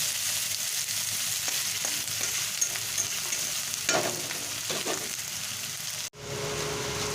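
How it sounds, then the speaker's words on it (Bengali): Finely chopped onion sizzles steadily in a hot pan, with a few louder stirring scrapes in the middle and a short break near the end before the frying resumes. "দিয়ে দিলাম পেঁয়াজটাকে এবারে আমি ভালো করে ভেজে নেব"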